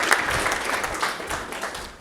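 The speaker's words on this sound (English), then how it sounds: "big round of applause for Jesse" Audience applause for a speaker at a mindset talk, a dense steady wash of many hands clapping that holds fairly loud for two seconds and fades slightly at the end.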